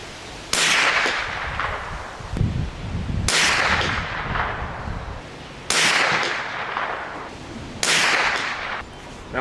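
A Springfield 2020RF rifle fires four sharp shots spaced a couple of seconds apart, each a loud crack with a fading ring, heard close with no talking.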